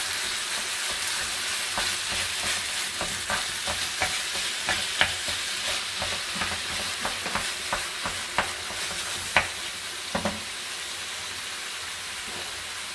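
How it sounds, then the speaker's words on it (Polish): Ground meat fries in a hot pan, a steady loud sizzle broken by repeated scraping and tapping as a utensil breaks the meat into small pieces, close and without talk. "Patelnia jest dobrze rozgrzane, więc od razu wrzucamy mięso. Rozdrabniamy je na jak najmniejsze kawałki."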